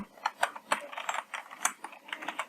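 Rapid, irregular clicking of computer keys as C# code is typed, a close, steady run of light taps with no talk.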